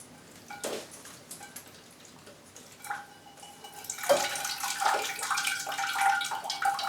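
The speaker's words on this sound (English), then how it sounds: "It's going to get a proper water." An orchid in its pot is watered at close range, first with scattered faint drips, then a steadier pour and splash as water runs down through the pot, with no talking.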